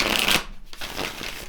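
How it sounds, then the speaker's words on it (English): Close, crisp riffling and slapping of tarot cards being shuffled, a quick burst followed by softer flicking. "Having a hard time shuffling here, Leo."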